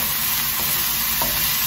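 Onions fry in a hot pan for pasta pesto, giving off a loud, even, close sizzle with a few faint scrapes of stirring and no talking.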